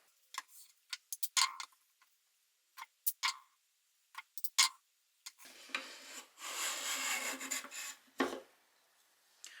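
A Honeybrook Japanese hand plane pulled across wood makes a string of short, sharp rasping strokes at close range, then a longer, fuller shaving swish and one final scrape, with quiet gaps in between.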